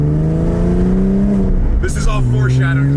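A Porsche GT3 engine revs hard from inside the cabin, its rising tone climbing steadily through a long gear and then dropping at the shift. Someone talks over the continuous loud engine drone.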